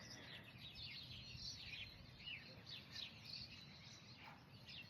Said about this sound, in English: You can hear the birds, hopefully.